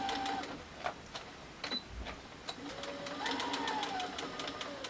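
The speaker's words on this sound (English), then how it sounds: "So I'm just basically going to sew back and forth." Sewing machine running short seams back and forth on fabric pieces for a pincushion, a rapid mechanical whirring hum with brief pauses and clicks, close and moderately quiet, no talk.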